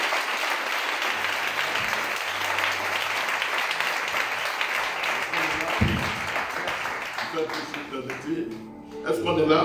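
A church congregation at an evening worship gathering applauds the Lord with loud, sustained clapping from a large crowd that fills the room, fading toward the end as voices rise.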